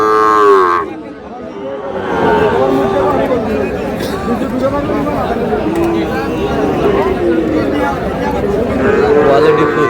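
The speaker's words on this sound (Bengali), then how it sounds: "ষাঁড় বাচ্চা," Young bull calves moo at a busy cattle market. Drawn-out lowing calls rise over a steady hubbub of crowd chatter, and nearby voices talk throughout.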